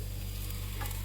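Steady sizzling and crackling of mustard seeds and fenugreek frying in hot oil, close and continuous, with a few brief stirring clinks.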